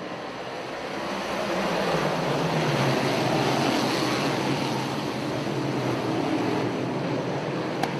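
Big Block Modified race cars roar around Utica-Rome Speedway, a broad, sustained engine drone that swells in the first second and then holds loud and steady, with no voices heard.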